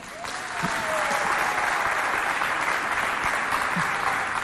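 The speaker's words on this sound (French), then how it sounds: "Applaudissez très fort." Audience at a televised show in Chad breaking into applause, dense continuous clapping that swells in after a brief moment and holds steady to the end.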